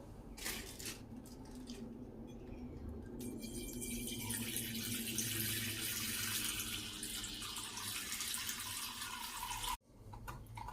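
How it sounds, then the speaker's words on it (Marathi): Milk pours into a pan in a kitchen, a soft, continuous liquid splash that builds for several seconds and then stops abruptly. "आपण दूध गरम करून घेऊ चला आपण दूध टाकून घेऊ"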